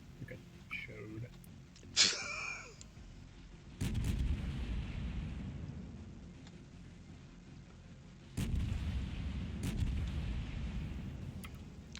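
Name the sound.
naval artillery fire from warships in a video game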